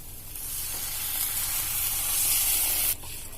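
Loud, steady hiss of masala sizzling in a hot pan as a cup of water is poured in, swelling for about three seconds before dropping back to a softer simmer.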